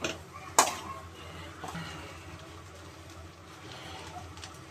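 A spatula stirs hot rice in a pan for egg fried rice, with a sharp metallic clank at the start followed by quieter scraping and shuffling against the pan.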